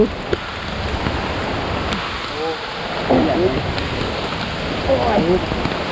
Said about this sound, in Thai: ฝนตกแรงซะด้วย ตกอย่างแรงเลย